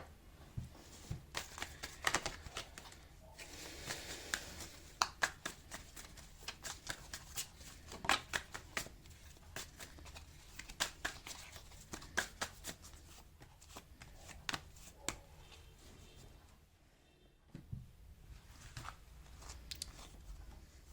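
Tarot cards are shuffled by hand in repeated bursts of crisp riffling and soft slapping, with short pauses and a brief lull partway through, close and quiet, with no speech.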